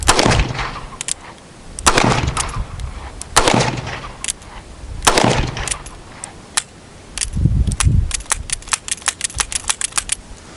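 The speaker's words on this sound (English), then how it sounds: "Here's the revolver shooting the exact same ammo" Revolver gunshots at an outdoor range, four loud, sharp reports spaced a couple of seconds apart, each with a brief echo, followed by rapid metallic clicking and rattling.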